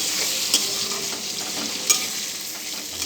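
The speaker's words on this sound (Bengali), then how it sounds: "এখন আমি ভেজে নিচ্ছি" Sliced pointed gourd frying in oil with cumin seeds, dried and green chilies, salt and turmeric, giving a steady, fairly loud sizzle, broken by two sharp clicks as a utensil strikes the pan while it is stirred.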